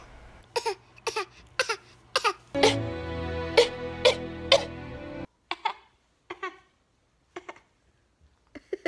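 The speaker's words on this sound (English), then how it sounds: "He's been doing the cutest little fake cough." A small child gives a series of short, soft fake coughs, several in a row then a few more spaced out, with a brief whiny vocal sound and a low background hum partway through; no speech.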